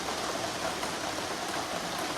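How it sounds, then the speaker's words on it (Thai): Heavy rain falls as a steady, dense hiss of even loudness throughout, with no voices or other distinct sounds above it. "ฝนตกหนักมากเลย"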